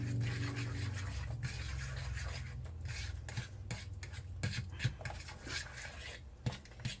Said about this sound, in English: So let's just mix this all together.